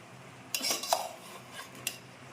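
Eggplant and dried shrimp curry stirred in a pan with a spoon, giving a few clinks and scrapes of metal on cookware, close and fairly quiet, with the loudest knocks near the start.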